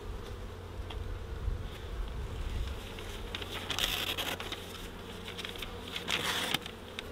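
A steady hum of many honeybees buzzes close by at a hive, dense and continuous, with a few louder passes and soft tapping mixed in.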